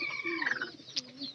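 A pigeon in a loft gives a short, soft cooing call, a brief warbling murmur heard close and faint with no talk over it.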